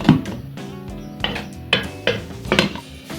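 Lid set onto a cooking pot of braised beef in tomato sauce, a few close metallic clanks and clinks spread over a few seconds, loud and with no talk.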